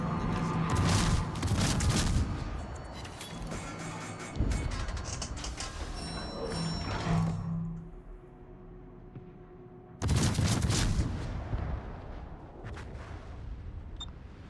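Naval artillery fire in World of Warships: heavy booming salvos and crackling gunfire rumble in bursts, fading to a quieter low hum midway before another loud volley erupts, with no talk.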